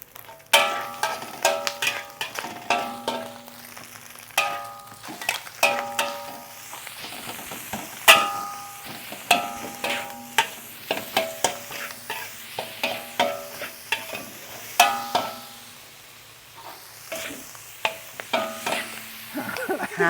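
Food is stir-fried in a wok, a spatula scraping and clanking against the pan in quick repeated bursts over a soft sizzle, loud and close with brief pauses.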